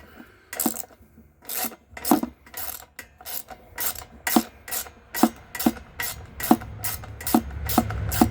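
A ratchet wrench works a fuel line fitting on a Simpson 3100 psi pressure washer, its pawl clicking out in quick repeated bursts of sharp ratcheting, close and clear, with brief pauses between strokes.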